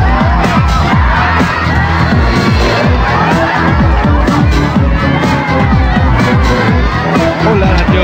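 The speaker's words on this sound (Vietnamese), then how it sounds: "Chúng ta hãy cổ vũ thật lớn hơn nữa" A studio audience at a Vietnamese television game show cheers loudly and continuously, with shouts and whoops over dense, rapid rhythmic clapping or banging that fills the whole stretch, close and steady throughout.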